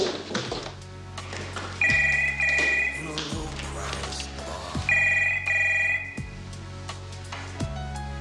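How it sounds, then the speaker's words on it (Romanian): A telephone rings in two clear double-tone bursts inside a home, heard during a scene from the 2002 Romanian comedy film Filantropica, with a low background hum and a few soft thumps between the rings. "Ai auzit? Sună!"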